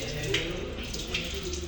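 Running water splashes steadily from a tap into a sink as something is rinsed before being cleaned with bleach, a continuous close wash with no break.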